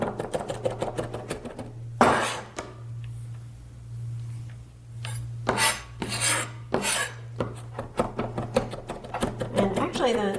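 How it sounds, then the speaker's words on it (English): A knife chops garlic finely on a cutting board in quick runs of close, crisp tapping, with people talking between the runs. "we're just kind of running through the garlic back and forth a few times until"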